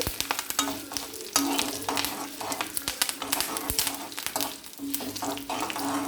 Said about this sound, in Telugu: ఈ పోపు అయితే బాగా వేగాలి